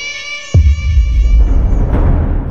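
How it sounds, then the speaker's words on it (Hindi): A cat cries and meows in a sustained, tonal wail that gives way to a heavy low rumble, loud and close. "फिर वही बिल्ली के रोने की आवाज।"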